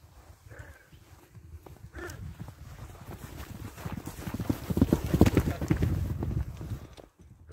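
Horse hooves clip-clopping on the ground, a rhythmic series of hoofbeats that grows louder toward the middle, with people talking over it.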